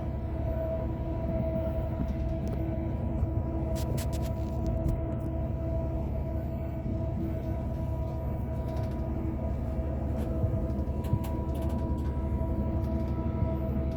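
Inside a moving train bound for Scunthorpe: a continuous low rumble with a steady hum, occasional faint clicks and rattles from the carriage.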